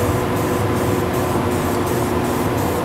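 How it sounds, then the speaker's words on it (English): Anti-corrosion coating is sprayed onto a car body panel of a Mercedes E55 AMG in a body shop, a loud continuous close hiss with faint rhythmic pulses from the spray passes. "This is mainly a anti-corrosion coating to help keep the elements and the environment away from the panel."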